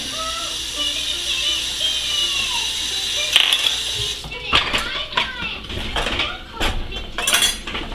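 A utensil stirring beef and broccoli in a hot pan: a background sizzle with a series of sharp metallic scrapes and clinks from about halfway, irregular and close.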